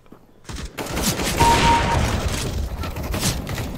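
Rapid automatic gunfire from the video game CS:GO, a dense sustained burst of shots starting abruptly and continuing loud and close throughout.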